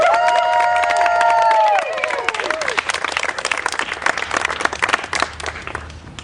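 An outdoor crowd on a chilly morning welcomes a US Senate candidate with loud applause and cheering, which breaks in after a held tonal voice and continues as dense, uneven clapping.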